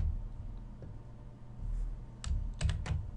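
Typing an answer on a computer keyboard for an online math exercise, a short cluster of crisp key clicks near the end after a quiet stretch, close and fairly soft.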